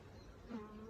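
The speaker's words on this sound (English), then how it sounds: "Well, plenty of bees out today." A soft, steady buzz of honeybees around a Flow Hive hums close by on a warm spring day, low and continuous, with a faint swell midway through.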